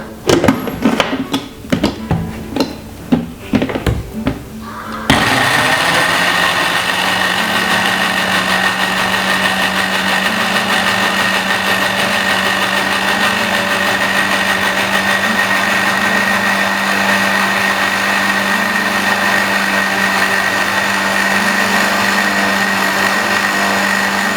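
A kitchen blender whirs steadily, blending a fruit smoothie with milk. It runs loud and continuous for about twenty seconds after a few seconds of clattering as it is set up.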